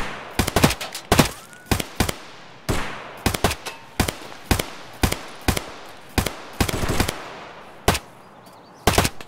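Rapid gunfire in the video game Escape from Tarkov: loud, sharp single shots and short bursts crack out irregularly over several seconds, close and alone.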